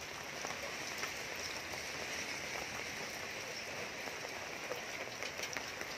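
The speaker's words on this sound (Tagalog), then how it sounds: "as you can see, it's raining already." Steady rain from Super Typhoon Goni (Rolly) falling in Muntinlupa City, a constant dense hiss of drops on surfaces with no pauses and no voices.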